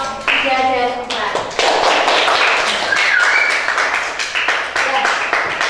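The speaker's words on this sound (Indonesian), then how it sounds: "Tepuk tangan untuk kelompok 3 dan 4." Classroom applause for student groups three and four, a burst of clapping from many hands that starts just after a voice and then carries on steadily and fairly close, with speech mixed in.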